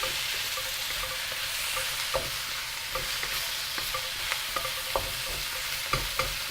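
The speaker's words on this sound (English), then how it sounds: "just keep the heat high and just mix it through. Get it cooking." Chicken stir-fry cooks over high heat in a hot pan, giving a steady, bright sizzle throughout with soft scraping and tapping as it is stirred at irregular intervals, close and continuous with no talking.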